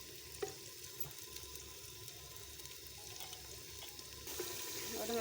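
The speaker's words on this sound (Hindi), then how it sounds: "अब हम इसमें डालेंगे टमाटर और सब्ज़ मिर्चें, और इनको अब हम फ्राई होने के लिए छोड़ देंगे।" Tomatoes and green chillies fry in a pan with a steady, close sizzle that continues throughout and swells slightly louder toward the end, with no speech.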